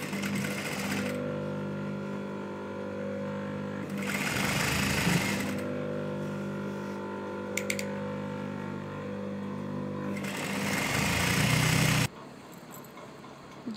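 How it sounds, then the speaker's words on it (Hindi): An electric sewing machine stitches a baby girl's frilled frock in three long, steady runs of fast whirring and rapid needle beats, with brief quiet pauses between runs. "अब मैं इसकी फिटिंग की सिलाई लगाऊंगी।"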